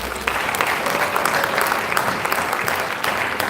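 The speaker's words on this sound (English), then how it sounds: "Just please give them a round of applause." Audience at a sixtieth birthday symposium applauding, a dense, loud and continuous round of clapping from a large crowd sustained from start to finish.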